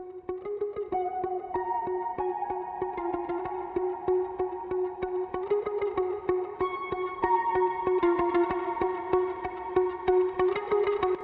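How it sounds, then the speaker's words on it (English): Spacious, heavily effected electric guitars ring out with long reverb and echo, layered tones shimmering steadily over a busy backing for the whole stretch. "listen to these spacey guitars in the back"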